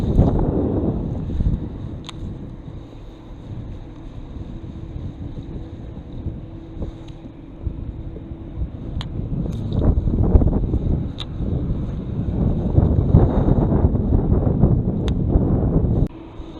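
Wind gusting over open water during rod-and-reel casting, a steady broad rush with buffeting against the microphone that swells louder in the second half, with a few faint clicks.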